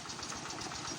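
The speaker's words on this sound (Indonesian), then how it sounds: "petani yang lagi traktor" A farmer's tractor engine runs in a rice field, a steady low chugging drone with a knocking pulse, quiet and continuous, no voices.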